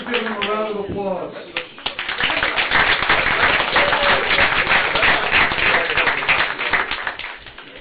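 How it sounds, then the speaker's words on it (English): At a BISD school board meeting, a brief spoken line gives way to a full round of audience applause, dense steady clapping that swells and holds for several seconds before tapering off. "Please give them a round of applause."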